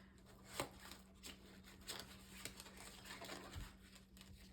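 Tarot cards being shuffled by hand during a pick-a-card reading, soft papery riffles and taps in quiet, irregular bursts, close and faint.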